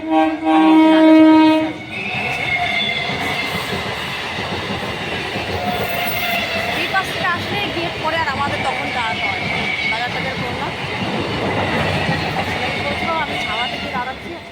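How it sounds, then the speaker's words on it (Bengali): A train horn blares briefly, then a passing train rumbles and clatters steadily along the rails at a level crossing, loud and close throughout. "ট্রেন আসছে দেখে"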